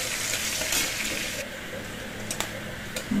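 Marinated chicken goes into hot oil in a pan and fries with a soft, steady hiss and sizzle. A few sharper crackles and clinks of a utensil stand out near the end.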